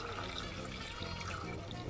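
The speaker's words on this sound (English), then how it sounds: "Now I'm going to add my water." Water pouring into a pot of chicken pepper soup, a continuous close splashing rush that lasts the whole moment.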